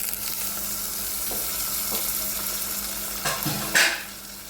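Tomatoes fry in a pan for a chickpea tamarind curry, making a steady close sizzling hiss throughout, with a few faint clinks and a louder scrape of stirring near the end.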